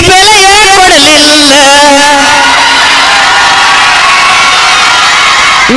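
A loud crowd at a Kannada folk song performance cheers and shouts for the performers, with a dense roar, whoops and children's voices sustained throughout.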